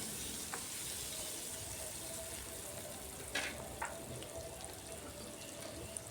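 Potatoes frying in a pan with salt for aloo dum make a quiet, steady sizzle throughout, with a few faint clinks and scrapes of stirring.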